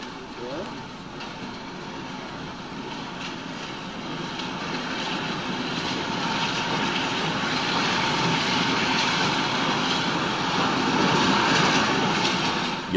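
Steam locomotive entering a station on a westbound service in Southern England in the 1960s, a continuous broad rumble and hiss that swells gradually as it nears, fairly loud with no talk.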